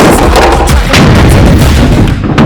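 A bolt-action .50 caliber rifle fired outdoors, a very loud, close, booming blast whose heavy rumble fills the whole moment with no pause.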